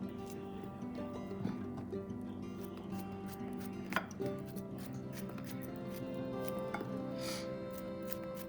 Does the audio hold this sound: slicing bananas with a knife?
yes